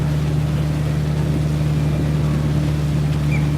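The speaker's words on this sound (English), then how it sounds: "we're right next to the engine, so I don't know if you can hear me or not" A riverboat's loud, steady engine drone with a strong low hum, heard from right beside the engine, running continuously, no talking over it.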